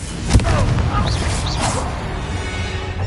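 Confringo blasting spell in Hogwarts Legacy bursts with a sharp, heavy boom, followed by rumbling debris and crackling impacts that fade out over a few seconds.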